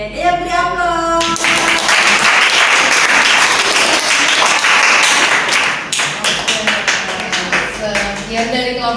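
A classroom audience bursts into loud, dense applause and tapping that lasts several seconds and then fades into scattered claps, with voices speaking before and after.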